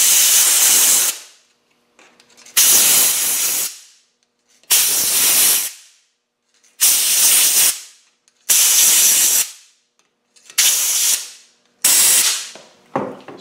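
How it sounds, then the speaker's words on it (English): Brake cleaner sprayed from an aerosol can onto a Land Rover wheel hub during wheel bearing and front brake work: seven loud, close bursts of hissing spray, each a second or so long, separated by short silences. "wash them out with some brake cleaner"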